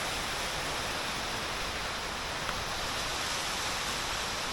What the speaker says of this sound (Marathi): किती जोरात पाऊस येतोय